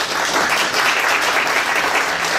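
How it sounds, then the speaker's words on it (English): Conference attendees clap loudly as a lightning talk speaker is introduced, a brief, dense burst of crowd applause close to the microphone. "A round of applause for Jason, please."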